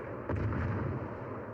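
A battleship in World of Warships Legends fires HE shells, one deep booming salvo with a low rumbling tail that fades out under constant game background noise.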